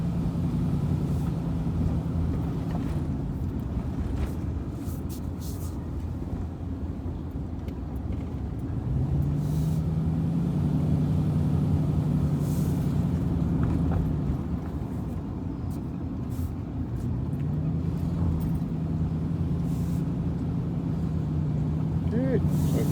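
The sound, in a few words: noisy truck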